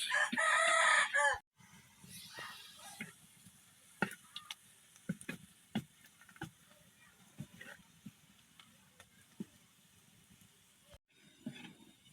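A rooster crows loudly and briefly at the start, followed by quiet room sounds with scattered clicks and soft taps, and faint talk later.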